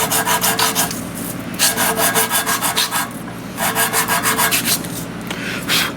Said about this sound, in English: We can sand our carburetor body good and smooth